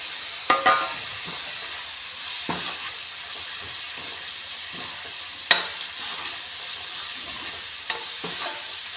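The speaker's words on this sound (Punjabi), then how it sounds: "ਨਾਲੇ ਪਕਾ ਲਾਂਗੇ ਸਾਰੇ ਮਸਾਲੇ ਦੇ ਵਿੱਚ ਚੰਗੀ ਤਰ੍ਹਾਂ ਕਰ ਲਿਆ ਮਿਕਸ" Carrot and potato sabzi with spices stirred in a pan, a steady close sizzle with scraping spoon strokes and occasional sharp clicks against the pan, no talking.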